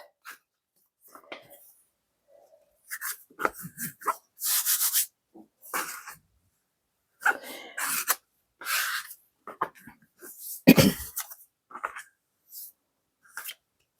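Sourdough dough being shaped and tightened by hand, with soft rubbing, slapping and squishing bursts in short uneven strokes, close and moderately loud, with no talking.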